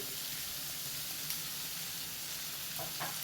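Onions and chicken sausage masala sizzle steadily in a pan while being sautéed, a constant close hiss of frying with faint occasional stirring scrapes and no talking.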